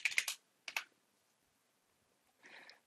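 Computer keyboard typing of a login for a GitHub account, two quick bursts of close, crisp key clicks followed by a quiet pause and a softer final flurry.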